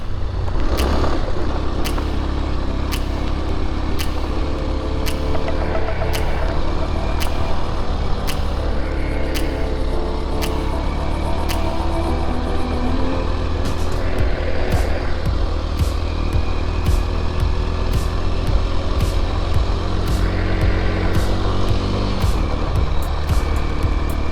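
A Kawasaki KLX230 dual sport motorcycle being ridden in India, a continuous close engine drone with wind rush and repeated sharp ticks and knocks from the ride, no talking.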